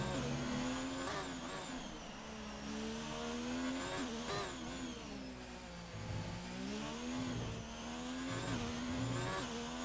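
An F1 car in a racing video game drops through the gears under heavy braking into a corner. The engine whines and falls in pitch, then revs again, loud and continuous throughout.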